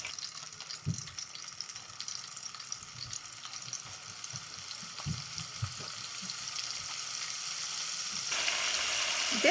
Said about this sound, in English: and it's frying up pretty good.